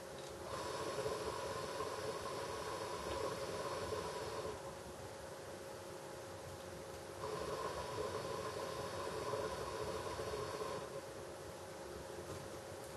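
A hookah loaded with Tangiers Welsh Cream tobacco drawn on in two long pulls, each a steady bubbling, hissing gurgle of several seconds, with a quieter pause between them.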